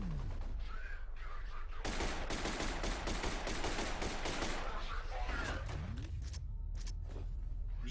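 Sustained suppressing gunfire in the shooter game F.E.A.R., dense rapid bursts of automatic weapon fire that rattle on for several seconds, loud and close, with shouts and game sounds around the volleys.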